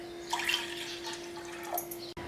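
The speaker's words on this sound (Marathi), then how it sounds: "या पातीला दोन वाट्या पाणी घेऊ" Water pours into a pan in a soft, steady trickle with light splashes, a quiet kitchen sound with a faint steady hum underneath.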